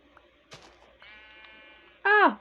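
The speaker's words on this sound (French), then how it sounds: "Ah, mouton." A sheep in a block-building survival video game lets out a single short, loud bleat at the end, after quieter game sounds.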